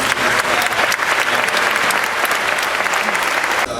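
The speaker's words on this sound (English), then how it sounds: "give one more round of applause to all of our student speakers" An audience at a school promotion ceremony gives a loud, continuous round of applause for the student speakers, with a busy texture of many hands that cuts off sharply near the end.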